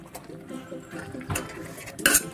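A utensil mashes cooked spinach and lentils in a metal pot for keerai paruppu kootu, making soft repeated scraping and thudding close by. It ends in a sharper metallic clink.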